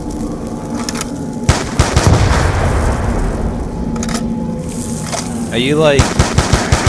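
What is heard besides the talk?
gunfire shooting zombies in Call of Duty: Black Ops 2 video game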